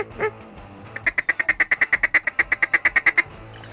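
A rapid run of about twenty nasal duck quacks, loud and close, comes in an even rhythm after a couple of scattered calls at the start, on a gray, rainy day.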